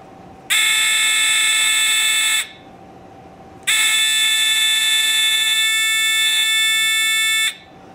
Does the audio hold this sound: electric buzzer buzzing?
yes